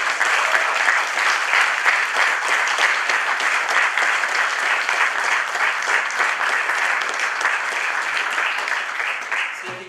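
An audience at an international guitar festival's winners' concert gives sustained, loud applause for the donor, dense clapping that holds steady for the whole stretch and begins to thin only at the very end.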